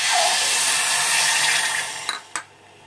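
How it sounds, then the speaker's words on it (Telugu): Half a cup of water poured into a pot of sugar gives a steady, close rushing splash for about two seconds, then it tapers off, with two short clinks or drips at the end. "1/2 కప్పు వాటర్ వేస్తున్నానండి."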